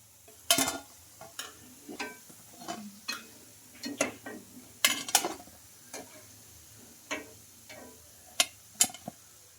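Semolina vadas fry in hot oil, giving soft sizzling under a series of sharp clicks and taps as they are turned with a utensil, irregular and close.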